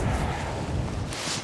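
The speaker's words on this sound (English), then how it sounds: "at times the wind's kind of really windy" Steady, blustery wind roaring across the microphone, a low buffeting rumble that holds for the whole stretch with a brief hiss rising near the end.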